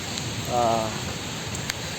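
Steady rain hisses throughout, with a short voice-like hum rising briefly near the start.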